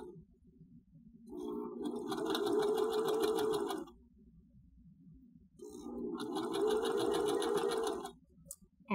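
A sewing machine stitches quilt rows together in two sustained bursts of rapid mechanical whirring, each a few seconds long with a brief quiet pause between them, close and clear with no talking.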